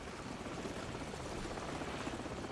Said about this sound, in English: the helicopter's back